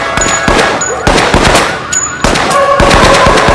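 Loud, rapid bursts of automatic gunfire and gunshots from a gun battle in an episode of The Wire, dense and continuous across the whole stretch and filling the foreground.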